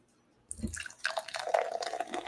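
Bavik Super Pils beer glugs and splashes as it is poured from a can into a glass, starting after a brief silence and running on steadily with a bubbly, liquid gurgle, close and fairly quiet.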